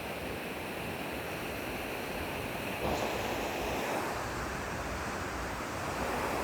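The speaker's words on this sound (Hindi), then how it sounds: "और ये रजिया नदी" The Rajiya river rushes steadily near a village bridge high in the mountains, a dense continuous roar of flowing water that stays loud and unbroken and swells slightly partway through, with no voices.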